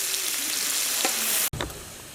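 Onions frying in hot oil to a golden color for Kabuli chicken pulao, a loud, dense sizzle that cuts out abruptly halfway through and resumes at once, no speech.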